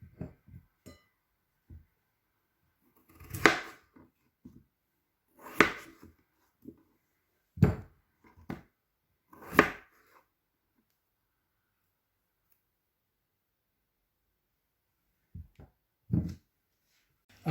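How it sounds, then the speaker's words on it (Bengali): A knife cuts potatoes into quarters on a board, with quiet, irregular chopping knocks scattered across the first ten seconds, a long silent stretch, then a couple more soft cuts. "একটা আলুকে 4 টুকরা করব এরকম"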